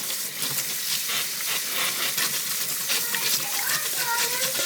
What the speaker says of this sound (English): First I'm going to give it a light rinse.